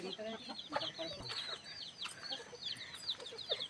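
Chickens in a forest tribal village cluck and chirp in quick, busy bursts, faint and fairly distant, with soft outdoor background noise.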